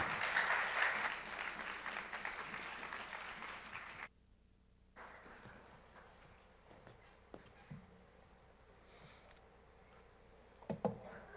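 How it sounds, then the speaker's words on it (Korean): Applause at a church youth summer retreat service: loud clapping from a gathered congregation that cuts off abruptly, followed by quiet room noise with scattered faint thumps and small movements. "이 시간 박수로 우리 목사님 맞이하겠습니다"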